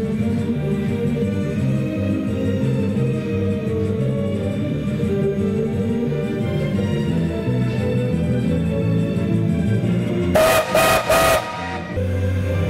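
Steam locomotive L-3114 sounds a few short whistle blasts near the end, after a long stretch of steady low engine rumble and mechanical noise; close and loud.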